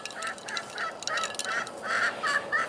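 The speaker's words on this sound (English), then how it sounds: "Silly chickens." Homestead chickens give a run of short, honking squawks and clucks in quick bursts, fairly close and continuous over the few seconds, with no talking.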